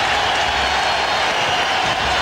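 A basketball arena crowd at a 1999 NBA playoff game against the Portland Trail Blazers cheers as a loud, steady, dense roar that fills the space without letting up.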